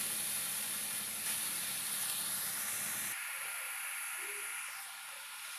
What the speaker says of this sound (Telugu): తురుము చేసుకున్నాను, అవి వేసి ఫ్రై చేసుకోవాలి.